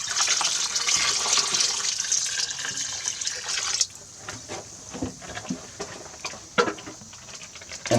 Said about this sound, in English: I'm going to add 1 gallon of water.